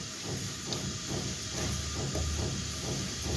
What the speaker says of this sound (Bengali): এখন দিয়ে দিচ্ছি তিলটা আমরা সুন্দর করে ভাজবো।